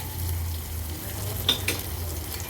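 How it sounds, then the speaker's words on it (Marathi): Chopped onion frying gently in a pan during Maharashtrian vegetable cooking, a low steady sizzle with a couple of light clinks of a spoon against the pan midway, no voices. "कांदा व्यवस्थित शिजवून घ्यायचा आहे आपल्याला"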